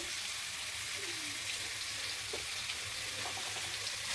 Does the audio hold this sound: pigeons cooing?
no